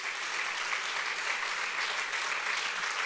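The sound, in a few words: congregation applause in church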